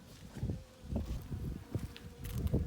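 Bees buzz steadily close by around a syrup feeder, a dense humming drone rising and falling in swells, with no voices.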